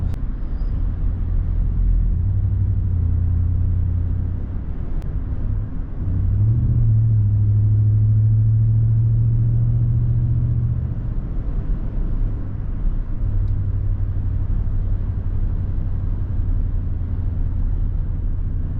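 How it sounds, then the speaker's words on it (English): A 2023 Ford F-150 with a 5.0 V8 and Flowmaster FlowFX exhaust, heard from inside while driving and coasting, giving a steady low exhaust rumble that swells and eases in a few soft surges, with no voices. "when I was coasting, you probably heard a little bit of a rumble in the back from, you know, from the exhaust"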